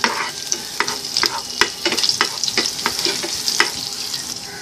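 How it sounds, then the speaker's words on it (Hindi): Cumin and finely chopped green chili sautéing in a pan for a cauliflower paratha filling, a close, lively sizzle punctuated by repeated clicks and scrapes of stirring. "यहाँ पे मैंने ग्रीन चिली ऐड कर दी, इसे कुछ सेकंड्स के लिए हम सौते करेंगे।"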